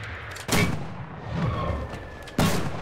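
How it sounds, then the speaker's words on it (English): Two loud, close mortar blasts from an M2 mortar in the World War II shooter Enlisted, each a sharp boom with rumbling tail, separated by about two seconds of distant battle noise. "M2 mortar."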